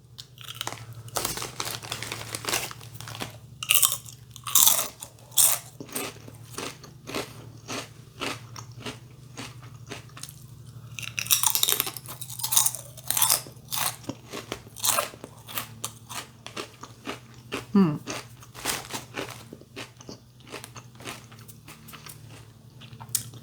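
Crunchy barbecue-flavoured crisps being bitten and chewed close to the mic, a long run of sharp, irregular crunches and crackles with brief pauses and no talk.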